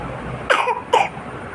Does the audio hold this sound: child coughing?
yes